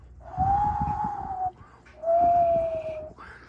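Two sustained human whistled tones, each about a second long with a slight pitch glide, separated by a short pause, close and clear.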